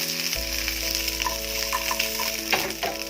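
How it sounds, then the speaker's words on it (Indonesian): Chicken wings frying in a wok for a sweet and spicy dish, a loud steady sizzle with scraping stirring strokes, close up and without talk. "Jadi kita aduk dulu biar kematangannya merata."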